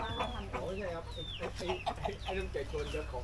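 Wenchang chickens on a farm clucking and chattering up close, several overlapping bird calls in a busy continuous stream with a background hum.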